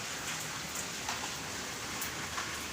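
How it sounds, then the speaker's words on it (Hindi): Light rain is just beginning to fall, a soft, steady patter of drops hitting surfaces that stays even and fairly quiet, with no voices. "तो देखें बारिश होना शुरू हो गई है"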